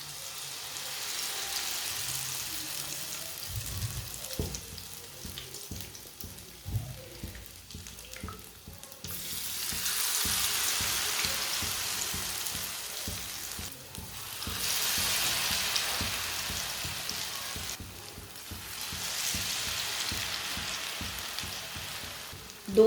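Aloo tikki patties frying in oil over a lowered flame, a soft continuous sizzle that swells and fades in waves, with occasional clicks and stirring, faint and close, no voices.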